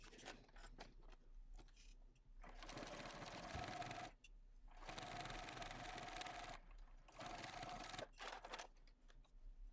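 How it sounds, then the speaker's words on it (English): Sewing machine top stitching fabric, three steady bursts of fast whirring stitches separated by short pauses, close and clear with no talking. "We're going to top stitch 1/8 of an inch from the edge on both short sides"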